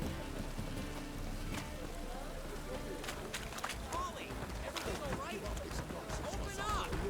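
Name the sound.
rain in the video game The Witcher 3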